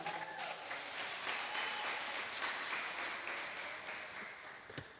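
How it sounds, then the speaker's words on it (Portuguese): A church congregation claps together in a broad, faint wash of applause that swells and holds steady, heard from some distance with no speech over it. "dê um forte aplauso a Jesus"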